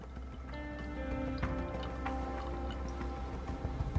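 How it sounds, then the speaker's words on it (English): Water is poured into a glass, a quiet trickle with light drips against a faint background of steady musical tones. "As I pour myself a nice little"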